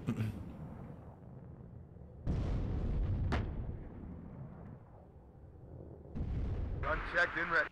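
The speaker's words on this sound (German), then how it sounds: "Artillerie schießt." Artillery firing in the Cold War strategy game WARNO: heavy distant booms with long rumbling tails, a sharp crack between them, and a voice talking faintly beneath the barrage.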